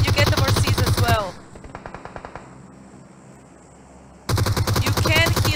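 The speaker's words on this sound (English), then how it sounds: "they are shooting at you" Automatic gunfire in the mobile battle royale game PUBG Mobile: loud, rapid bursts open and close the passage, with quieter, spaced single shots rattling between them.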